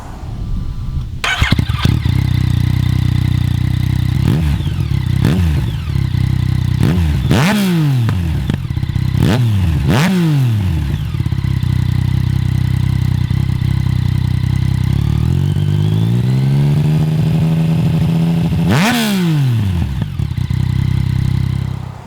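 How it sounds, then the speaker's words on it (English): A Yamaha MT-09 motorcycle with an Akrapovic titanium exhaust starts and idles loudly and close, broken by several sharp throttle blips that rise and fall, then a longer rev that sweeps up and drops before a final blip. "the Akrapovic titanium exhaust system. It totally transforms the sound of the bike"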